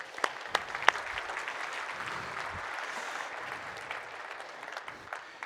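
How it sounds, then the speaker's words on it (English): Audience applause at an economic forum, a steady wash of clapping from a modest crowd with a few sharp, close claps near the start, holding evenly for several seconds and tapering slightly. "Everybody give a round of applause."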